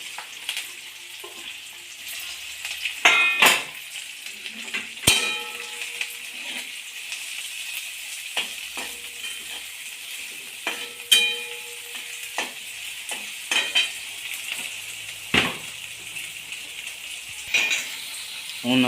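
Leftover bhakri pieces and onion fry in a pan with a soft steady sizzle, punctuated by sharp metallic clinks and scrapes of a spoon stirring against the pan.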